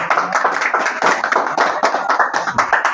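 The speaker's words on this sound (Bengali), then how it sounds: "হাততালি হাততালি।" Quick, steady hand clapping from a small crowd at a trophy handover to a sound system operator, close and continuous throughout.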